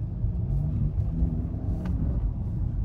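Low, steady engine exhaust rumble from a BMW M5 Competition in Sport Plus mode with exhaust valves closed, muted and even, with a faint whir and no sharp revving.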